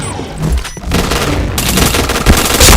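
A steady burst of automatic gunfire in the Point Blank video game, loud and continuous with sharp rapid reports and a few heavier booms, no talking over it.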